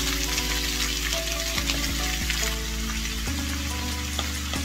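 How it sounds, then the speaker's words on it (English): Chopped vegetables for chicken fajitas sauté in a hot pan, giving a steady, close sizzle with soft scraping stirs throughout, and nobody speaks. "So guys, keep on sauteing it."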